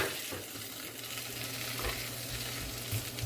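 Butter sizzles over meat and shrimp in a pot while cooking a Cambodian butter pot, a steady, dense crackling fry that runs unbroken throughout with no voices.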